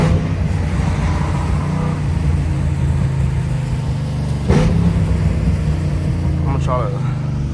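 A 2010 Ford Mustang GT climbing a small hill under acceleration, a steady engine drone with road and cabin noise throughout and a brief bump midway.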